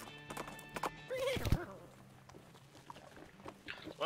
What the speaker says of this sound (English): lead them back to Dirtwater on a rope